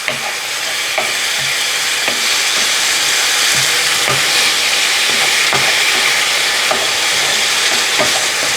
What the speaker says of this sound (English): Mix it all up, a few seconds.